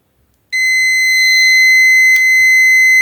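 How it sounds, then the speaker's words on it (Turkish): A loud, steady multimeter continuity buzzer tone starts abruptly and holds continuously, bright and piercing, with a faint quiet rumble underneath. "Bakın buzzer'ı çalıştırdım. Diğer ölçü aletinde şu anda bana buzzer sesi veriyor."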